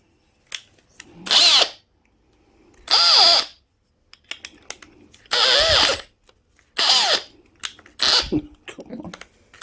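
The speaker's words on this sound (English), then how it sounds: "Okay, backup drill." A backup power drill runs in five or six short, loud bursts close by while working on an off-road trailer, with quiet clicks and handling noises between runs.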